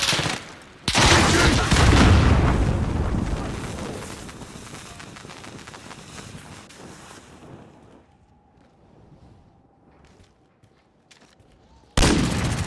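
RPG rocket blast in a first-person shooter video game: a loud, close explosion bursting in and rumbling down over several seconds, then a quiet stretch before another sharp blast cuts in at the end.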